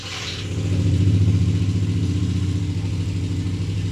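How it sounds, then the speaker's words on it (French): A Yamaha Raptor 660 quad's engine, freshly overhauled with carburetor repair and tuning, cold-starts and settles into a loud, steady, close idle with an even mechanical throb. "Un test de démarrage à froid."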